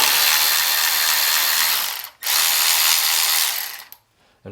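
Milwaukee M12 3/8-inch cordless ratchet running in two loud, close bursts of high-pitched motor whir with rapid mechanical clatter, separated by a short pause and ending abruptly.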